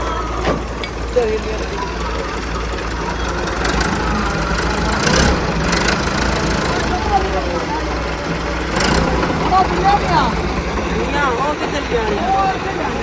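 A tractor engine runs in a Pakistani village, giving a steady, low, idling rumble that continues throughout while people talk nearby.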